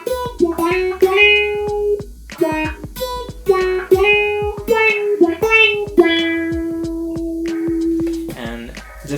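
Electric guitar solo played through an amplifying effects pedal, with quick plucked notes, bends and sustained held tones in a bright, slightly distorted funky line, loud and up front with no talking.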